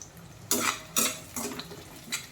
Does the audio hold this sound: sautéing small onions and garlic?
yes